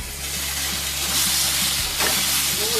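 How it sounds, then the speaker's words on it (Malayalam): Sliced okra sautés in a pan with coriander, turmeric and chili powders for Kerala-style vendakka mappas, giving a steady close sizzle and hiss with faint stirring. "വെണ്ടയ്ക്ക ചേർത്ത് വഴറ്റാം."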